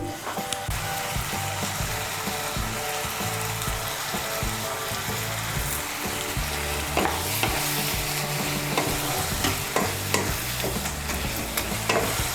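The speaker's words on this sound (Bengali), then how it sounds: "মিশিয়ে নিয়ে মশলাটাকে ভালো করে কষিয়ে নেব" Ground spice masala with salt is fried for a potato curry, a dense, continuous close sizzle with constant scraping and stirring of the pan throughout, no talking.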